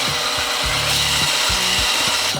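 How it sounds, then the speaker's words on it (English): A drill in reverse spins a cylinder mower reel backward for backlapping, making a continuous gritty grinding and rasping with a low motor hum that rises and falls in pitch. "we take a track head drill in there, and we just put it in reverse"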